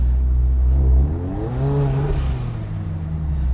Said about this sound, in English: They want me to rev it.